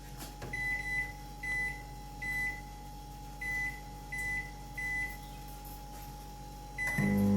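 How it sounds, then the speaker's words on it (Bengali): Microwave oven humming steadily on normal mode with a constant low drone, punctuated by a series of short regular beeps, with a louder clunk near the end. "মাইক্রোওয়েভে আমি নর্মাল মোডে দিলাম, মিনিট 3 রাখবো,"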